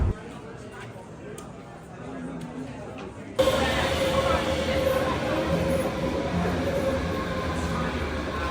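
A train in Berlin rolls along with a steady rumble and wheel noise, which jumps abruptly louder and brighter partway through, with a faint tonal squeal and people chattering in the carriage.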